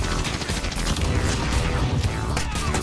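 Rapid gunfire in Call of Duty Modern Warfare around a Galil (CR-56 AMAX) class, dense overlapping automatic bursts with booming shots, loud and nonstop.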